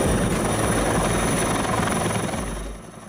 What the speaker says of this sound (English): Firefighter helicopter.